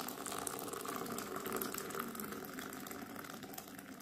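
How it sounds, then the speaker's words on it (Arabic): Boiling water poured over cumin and fennel seeds, a steady gushing, splashing stream of liquid at close range lasting several seconds, with no talking. "ننزل عليهم كده يا جماعه بكوبايتين ميه مغليه"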